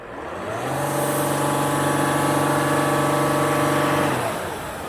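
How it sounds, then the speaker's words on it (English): Mercedes-Benz GL350 engine revved from idle: a steady engine drone climbs in pitch, holds at raised revs for several seconds, then drops back toward idle, loud and close with no talking over it. "So I'm gonna rev up the engine"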